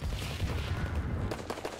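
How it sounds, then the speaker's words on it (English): Grenade blast in the shooter game Call of Duty WW2, a dense, booming rumble of explosion and gunfire filling the short moment, loud and continuous with a few sharper cracks near the end. "Ah, we've been grenaded!"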